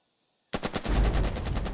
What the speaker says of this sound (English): Suppose I could shoot over here with this tank.